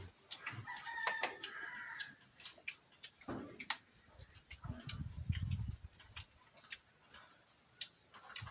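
A rooster crows in the distance among scattered clucks and clicking ticks, set against faint outdoor background noise.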